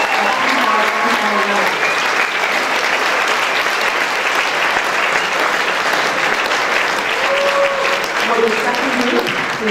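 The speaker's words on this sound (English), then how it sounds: "let's please have a round of applause for the first half of our" Sustained applause from a graduation ceremony audience, steady and dense for the whole stretch, with no talk heard over it.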